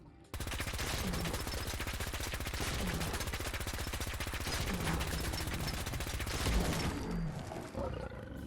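Rapid continuous automatic fire from a laser LMG aimed at a Deathclaw in Fallout 4, a dense unbroken burst of shots lasting several seconds with a faint creature roar mixed in, loud and close, ending abruptly.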